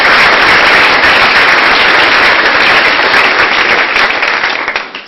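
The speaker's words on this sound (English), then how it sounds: "give a round of applause for our panelists" Loud, dense audience applause for a panel of speakers at a tech event, sustained and even before thinning out and tapering off toward the end, with no voices over it.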